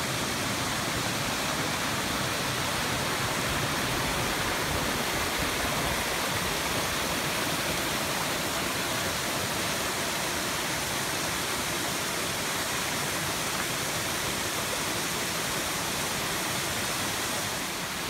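River water rushing over rocks in Lehigh Gorge, a steady broadband roar that stays constant and close, with no voices.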